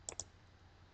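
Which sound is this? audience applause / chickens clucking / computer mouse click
computer mouse click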